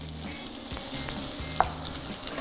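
Leek, shallot and garlic sizzling in a hot pan, a continuous close hiss with a few soft stirring scrapes and one sharp clink partway through.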